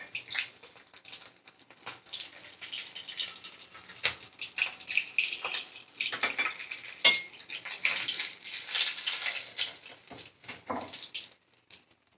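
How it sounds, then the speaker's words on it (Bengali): Fried fish lifted one by one out of a hot oiled wok, with close clinks and scrapes of a metal utensil against the pan over a soft sizzle of oil, no talking. "আমি একটা একটা করে মাছ কড়া থেকে উঠিয়ে"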